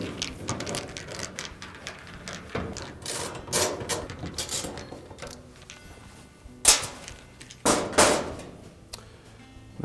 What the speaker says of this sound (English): we'll take a 5/16 nut driver and remove 4 screws that secure